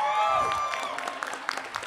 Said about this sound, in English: They're just cheering for parks.